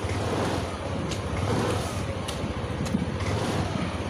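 A Yamaha NMAX V2 scooter with a heavy vibration fault revs hard, a steady loud rumbling drone holding nearly constant from start to finish, with some wind-like rush over it.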